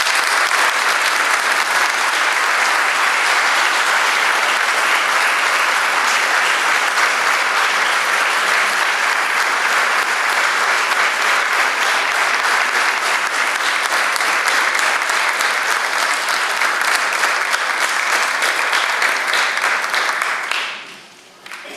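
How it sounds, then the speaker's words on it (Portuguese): Strong, sustained applause from an audience at a book launch in a museum, a dense wash of clapping holding steady for about twenty seconds before cutting off abruptly. "eu peço um forte aplauso para o Dr. Emanuel Furtado."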